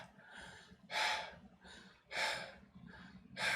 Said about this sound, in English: So they're all tired, breathing heavy.